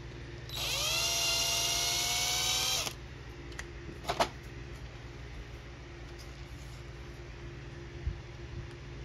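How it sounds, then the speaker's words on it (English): A power drill bores a hole a little deeper for fitting a Tortoise switch machine on a model railroad layout, giving one steady whine of about two seconds that stops abruptly, followed by a few faint clicks and handling noises. "So I'm going to drill this a little bit deeper."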